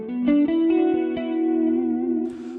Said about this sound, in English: we've got a bit of chorus and reverb and delay on there